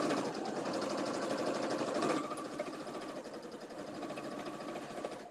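A sewing machine stitches over masking tape on fabric, a fast, even mechanical chatter that runs loudly at first, then eases to a slightly softer, steady whir after about two seconds.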